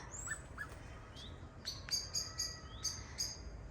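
Birds calling outdoors near a home in Berlin, Germany: a series of thin, high chirps and whistled notes, several quick repeated calls, fairly faint over a soft ambient background, with no one talking.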